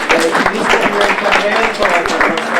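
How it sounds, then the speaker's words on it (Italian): An audience at a film music event bursts into dense, continuous clapping, loud and close, with a voice briefly audible among the applause. "Io direi di fare un applauso, ecco."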